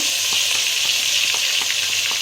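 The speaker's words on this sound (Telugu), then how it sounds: "ఇవన్నీ వేసి పచ్చివాసన పోయే వరకు కొంచెం ఫ్రై చేసుకోవాలి." Curry leaves, cinnamon, onion and ginger garlic paste frying in hot oil for Telangana fish curry, with a loud, constant sizzle and a few light stirring taps, close by, with no talking.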